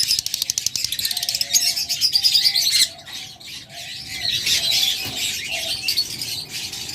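Pair of caged pet birds calling close by, sending out rapid repeated chirps and squeaky whistles with steady chatter throughout.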